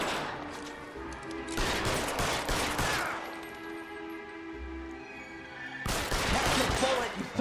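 Gunfire from the video game L.A. Noire comes in dense bursts of rapid shots, loud and sustained, with quieter stretches between volleys.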